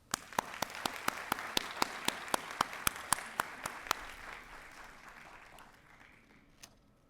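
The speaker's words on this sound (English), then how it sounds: "Please join me in a final round of applause for Lua and Mohammed." At a university commencement ceremony, slow, evenly spaced claps ring out one at a time in a large, reverberant hall, about a dozen in a steady rhythm before they fade into faint room noise.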